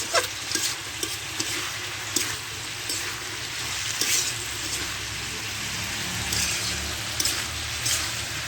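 Ground spices being stirred into a cabbage and fish curry in a pan, steady sizzling with scattered scraping clicks from the stirring, close and moderately loud, with no voices.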